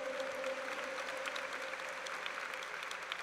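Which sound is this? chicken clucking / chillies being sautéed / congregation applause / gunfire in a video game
congregation applause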